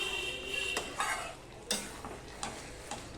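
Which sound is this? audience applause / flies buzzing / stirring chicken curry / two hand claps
stirring chicken curry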